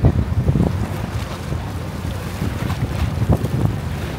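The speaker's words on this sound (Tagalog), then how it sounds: "Ayan, ang lakas ng alon." Strong waves washing along the harbour shore near the Sydney Opera House, a steady rough rumble mixed with heavy wind buffeting the microphone, continuous and close, with no voices.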